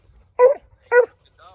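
A dog gives two sharp, close yipping barks in quick succession, followed by a softer whimper, in an otherwise quiet setting.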